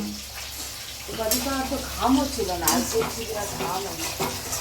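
Tilapia fish frying in oil in a pan in a home kitchen, giving a steady, moderately loud sizzle with occasional bubbling surges, while a person talks over it for most of the time.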